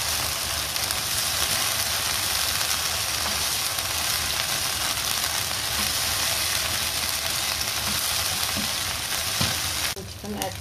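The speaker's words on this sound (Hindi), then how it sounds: "अब हम इसमें अदरक लहसुन का पेस्ट डालते हैं। और इसको 2 मिनट लगातार भूनते हैं।" Onions frying with ginger-garlic paste in a pot for white pulao, a dense, continuous close sizzle that holds steady, with a brief stir or clatter near the end.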